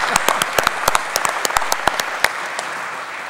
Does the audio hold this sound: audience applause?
yes